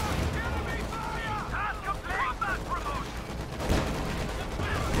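Heat rounds and other gunfire in the video game Company of Heroes 2 thud and crackle amid steady battle noise, with a louder burst near the end, while someone talks over the din.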